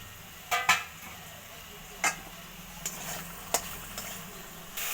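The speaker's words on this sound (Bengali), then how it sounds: "এবার ভেজে রাখা আলুটা আমি দিয়ে দেব।" Fried potatoes tossed into a spiced masala in a pan, soft continuous sizzling with a few sharp spoon-against-pan scrapes and knocks while stirring, fairly quiet and with no talk.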